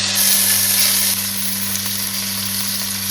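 Chana dal fries in a hot pan with oil, giving off a loud, steady sizzle and hiss that holds evenly from start to finish, close up and without speech.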